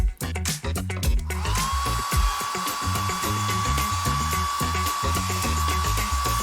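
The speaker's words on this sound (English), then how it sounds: "Brush it all straight. Like that. Now put this bowl on. And blow dry it." A hair dryer blows on hair that has just been combed straight. It gives a steady, even whine that starts after a second and holds to the end, over loud rhythmic background music.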